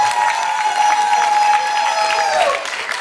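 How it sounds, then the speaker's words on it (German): An audience at a popping dance battle applauds and cheers loudly and steadily, dense clapping with a sustained tone ringing over it and tapering slightly at the end. "Euer Applaus bitte für die"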